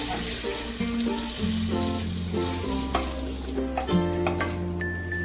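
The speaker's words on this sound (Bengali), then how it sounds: "দেখো তেলটা গরম হয়ে গেছে এবার আমি দিয়ে দিলাম দুটো তেজপাতা" Two bay leaves sizzling in hot white oil in a pan, a steady close crackle and hiss heard beneath melodic background music.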